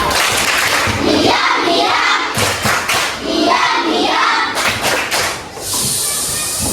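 Schoolchildren in a classroom perform the 'tepuk diam' clapping chant, with dense, rhythmic group claps mixed with young voices that fill the whole stretch and pause briefly between bursts.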